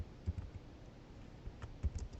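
Typing on a computer keyboard at a desk: soft, irregular keystroke clicks in small bursts, close and fairly quiet, with no speech.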